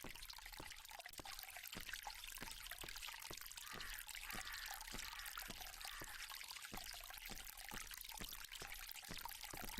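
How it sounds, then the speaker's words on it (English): A video game fountain gives off a steady, soft stream of flowing water, an even wash of sound with faint regular ticks beneath it. "This fountain makes a very relaxing sound."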